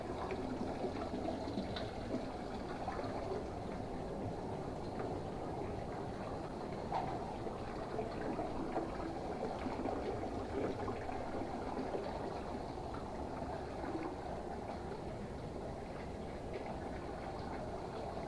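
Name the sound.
door handles rinsed in dilute acid swirl tank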